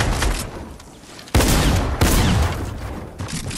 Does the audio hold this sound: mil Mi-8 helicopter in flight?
no